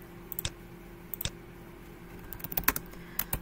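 Quiet typing on a computer keyboard, with a few separate keystrokes followed by a quicker cluster of clicks near the end, close to the microphone and without talk.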